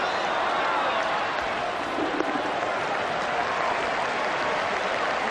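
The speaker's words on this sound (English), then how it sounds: "There's certainly plenty of atmosphere here at Eden Park this afternoon. It's a capacity crowd" A capacity crowd at an afternoon New Zealand cricket match at Eden Park keeps up steady, dense applause and crowd noise throughout, loud and continuous with no clear pauses.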